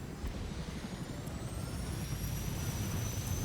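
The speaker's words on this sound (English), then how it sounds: "He's going to get in a helicopter and leave." A helicopter engine in the video game Fortnite runs as a steady, continuous drone, with a low rumble beneath a whining rotor tone that holds throughout.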